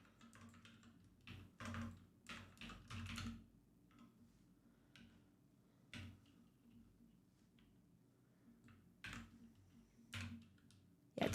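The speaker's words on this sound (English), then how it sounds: "it's very hard typing with these nails for real." Someone types with long nails on a computer keyboard, quick bursts of clicking taps broken by short pauses, soft and close during a quiet coding session.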